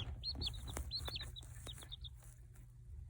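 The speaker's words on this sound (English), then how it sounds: "Hope you guys enjoyed seeing the chicks hatch." Newly hatched chicks peeping in repeated high, sharp chirps in short clusters, close and clear over a steady low hum.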